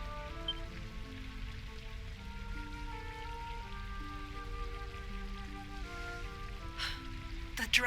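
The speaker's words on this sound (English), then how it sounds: "Rain falls." Steady rain falling in the video game Dragon Quest XI: Echoes of an Elusive Age, a soft continuous patter over a low musical drone, with no talk and a couple of brief sharp clicks at the end.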